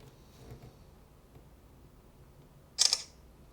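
Oukitel WP5 Pro phone camera shutter firing once for a selfie, a single crisp close click against a quiet room.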